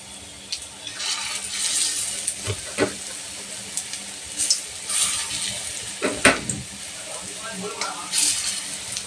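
Fish-roe pakoras fry in white oil in a home kitchen, giving a continuous close sizzle with occasional stirring and scraping knocks and a faint voice in the background.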